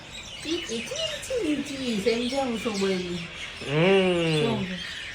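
A common myna calling nearby, a run of clear warbling, whistled notes followed by a louder rising and falling phrase, with no one talking.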